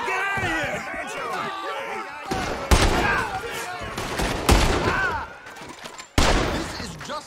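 Rapid gunfire bursts in a Red Dead Redemption 2 shootout, sharp loud cracks and volleys breaking in repeatedly, some close and punchy, mixed with shouting voices between shots.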